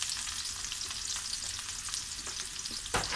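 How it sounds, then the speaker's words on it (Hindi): Onions frying in hot oil in a pan for achari masala keema, a continuous crackling sizzle with light stirring and a louder scrape near the end, no voices. "अब हम सबसे पहले प्याज डालेंगे"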